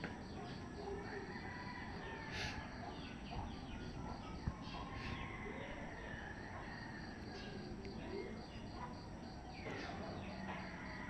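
A rooster crows repeatedly on a rural farm with vegetable plots and banana trees, its calls rising over steady wind noise and a constant chorus of insects.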